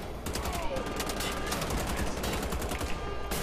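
Rapid, continuous gunfire in the video game Wolfenstein: The Old Blood, with loud repeated shots filling the whole stretch over a dense battle soundscape.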